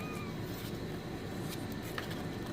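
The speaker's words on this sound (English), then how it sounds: "They are meowing, crying for their mother." Young kittens meow for their mother on a farm, thin high cries rising over a constant low background hum, faint and somewhat distant.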